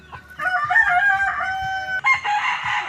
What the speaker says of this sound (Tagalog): Ang pugi naman ang manok kong si Rico Boy.